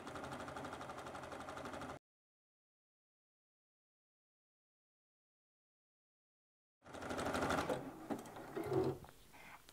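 A sewing machine zigzag-stitches along the seam edge of an elastic-waist skirt, whirring steadily for about two seconds, then falling silent before a second, louder burst of machine running with some handling noise.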